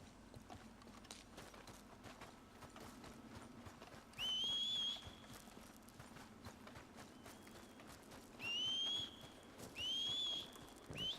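Horse hooves clip-clop steadily on the ground in Red Dead Redemption 2, with a few bright whistle-like tones cutting in over the low, continuous hoof rhythm; no talk is heard.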